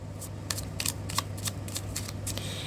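Tarot cards are shuffled by hand in a quick rhythmic series of papery riffles and flicks, close and fairly soft over a low steady hum.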